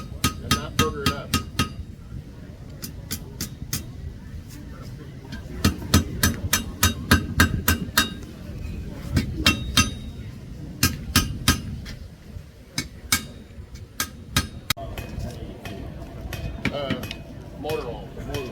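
A hammer taps the edge of a knife blade during a traditional knifemaking demonstration at a gunmakers fair: several bursts of rapid, sharp, ringing metallic taps, close and loud, separated by short pauses over a steady murmur of voices and crowd noise.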